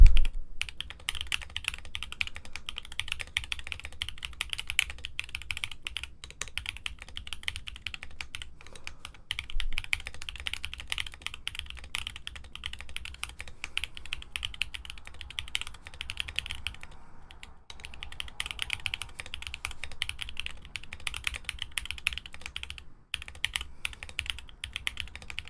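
Steady typing on a re-lubed BoardSource Mark 65 mechanical keyboard with poppy tactile switches, a continuous stream of close, crisp keystroke clacks with no talking.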